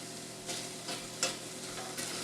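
Onions browning in a pan for pumpkin soup give a steady, moderate sizzle with a few soft stirring scrapes and brief clinks, no voices.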